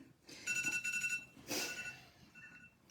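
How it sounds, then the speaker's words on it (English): A phone alarm beeps in quick repeated bursts, then sounds again after a short pause, fairly quiet in a still room. "It's just my alarm."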